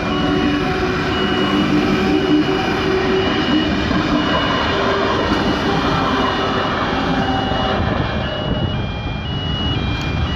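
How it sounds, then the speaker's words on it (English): An intercity passenger train near Blackheath rumbles past close by, a loud sustained roar with rail noise and humming tones that ease slightly toward the end. "watching the train roll by"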